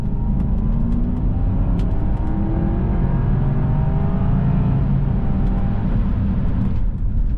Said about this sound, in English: And then, of course, of the engine, you get a brilliant V8 soundtrack.